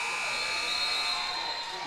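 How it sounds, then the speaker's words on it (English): A buzzer at a girls' high school state tournament basketball game blares as one continuous, loud, steady tone through the whole moment. "Buzzers buzzing everywhere as we got to wait till you get 8 on the clock here."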